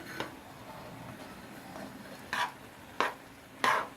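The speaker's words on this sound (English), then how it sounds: "Now I will stir this around" A spoon stirs spicy shrimp rice creole seasoned with Cajun spice in a pan, giving three brief, soft scraping strokes near the end over a quiet background, with no talking.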